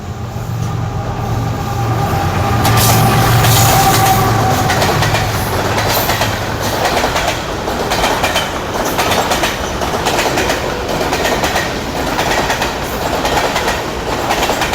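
A locomotive, GU40 9047, rolls by hauling a container train at a station between Rahim Yar Khan and Karachi, with a low engine drone at first, then steady loud wheel rumble and rhythmic clickety-clack throughout.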